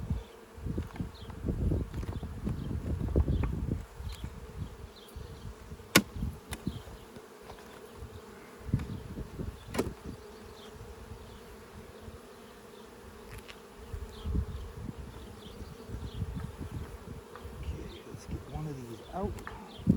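A steady, close hum of honey bees buzzing around the hive on a farm, with individual bees swelling past the microphone and people talking quietly underneath.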